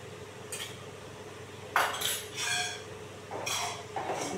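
A utensil scrapes and clinks against a kadai while spiced fish paste with ground chili, cumin and coriander is stirred, several short metallic scrapes spaced apart over a quiet background.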